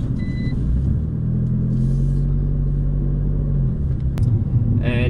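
Fiat Abarth 695 Tributo Ferrari being driven, its engine a steady close low rumble that holds throughout, with a brief higher whine near the end.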